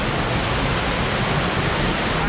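Rushing water of a waterfall in Looper Canyon on Vancouver Island, a steady loud broadband roar filling the whole stretch without pause or voices.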